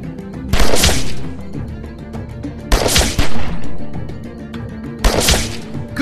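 Bursts of covering gunfire from a gun in The Walking Dead video game, three loud clusters of rapid shots separated by brief lulls over background game sound.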